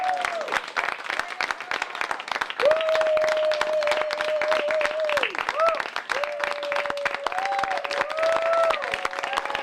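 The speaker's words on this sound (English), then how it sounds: "So I do want us to all give a very big round of applause for Danica Roem" Audience applause and cheering for Danica Roem at a Democratic party gathering, crackly continuous clapping mixed with whistles or tonal sounds, fairly close and lively.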